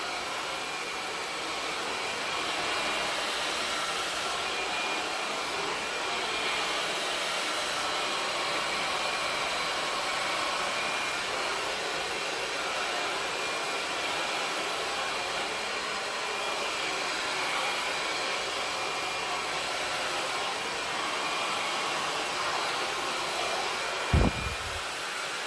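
Handheld hair dryer blowing steadily during a salon blowout, a continuous broadband whoosh held at even loudness for the full length with no talk, ending in a brief low thump.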